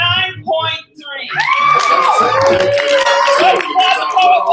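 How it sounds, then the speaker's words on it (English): A crowd at a Louder Than a Bomb youth slam poetry bout claps and whoops for a poet. A loud amplified host's voice opens the moment, then cheers and applause swell underneath. "Let's clap the poet one more time."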